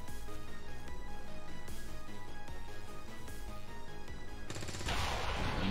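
An explosion in the XCOM 2 video game, during a jungle haven defense, arrives as a broad, crackling blast near the end after a run of rapid, repeated gunfire-like bursts.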